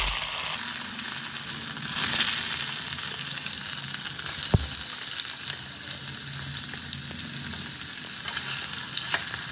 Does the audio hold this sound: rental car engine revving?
no